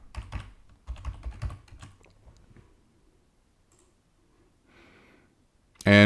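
A few quick keystrokes tapped on a computer keyboard while entering a root password during an ESXi 7.0.2 hypervisor setup, close clicks in a short burst, then quiet and a sharp final thump.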